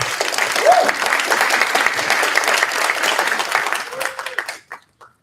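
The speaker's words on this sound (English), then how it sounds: "You guys can clap." Applause at a student government meeting, a roomful of people clapping steadily at a moderate distance, tapering off into a few last claps before silence.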